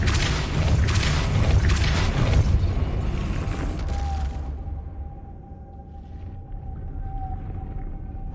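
A Depulso force spell blasts in the Hogwarts Legacy video game as a loud, rumbling whooshing burst that fades after about four seconds into a low, quiet hum.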